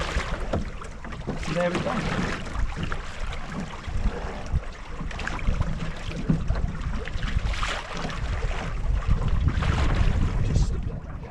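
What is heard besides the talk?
sailboat sailing on a lake in wind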